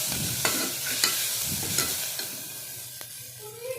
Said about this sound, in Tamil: நல்லா ஒரு கோல்டன் ப்ரௌன் வர வரைக்கும் நல்லா வதக்கிக்கலாம்